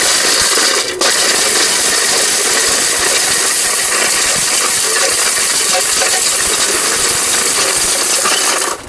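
An electric kitchen blender grinds turmeric into powder, a loud, dense, continuous rattling roar that runs steadily without pause through the whole stretch and cuts off abruptly at the end.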